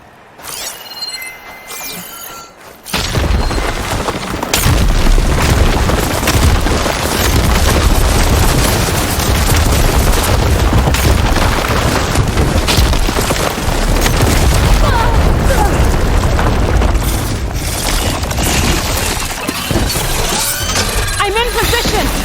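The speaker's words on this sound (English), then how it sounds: "Hopefully that's enough to fire a few shots from that ballista." Ballista fire in the video game Horizon Forbidden West: a dense, loud wall of booming, rumbling combat noise that runs on without pause after a quieter opening, with voices mixed in.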